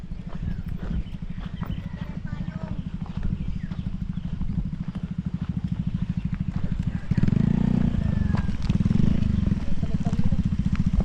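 A motorcycle engine chugs along with a steady low putter on a road in Barangay Laiban, Tanay, Rizal, swelling louder near the end, with wind noise over it.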